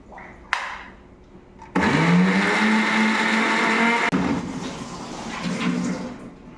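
A mixer grinder purees mint leaves, ginger, green chillies and salt: after a sharp clatter, the motor whirs up to a loud, steady grinding roar for a few seconds, then cuts off, leaving softer handling noises.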